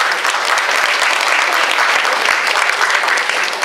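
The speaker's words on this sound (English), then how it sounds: "Can we have a big round of applause" An audience at the KL Fashion Week Ready to Wear 2017 press conference breaks into loud, dense applause, a steady roar of clapping that fills the whole short stretch.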